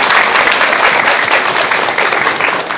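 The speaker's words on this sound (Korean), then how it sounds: "오늘 좋은 말씀해 주신 용수 스님께 큰 박수 부탁드립니다." A studio audience at a televised Buddhist talk show gives a steady round of applause, with dense clapping filling the room throughout.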